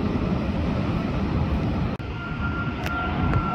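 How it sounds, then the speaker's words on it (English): An Airbus A380 jet airliner departing LAX produces a steady, broad roar of distant jet engines that stays constant throughout, with a brief dropout partway through and no speech. "This is the 6th A380 of the day."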